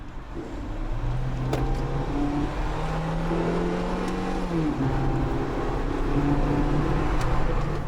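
Ford Fiesta 1.6 city car accelerating hard on an empty road, engine note rising steadily through the gears with a brief dip at a gear change, heard from inside the cabin with no talking.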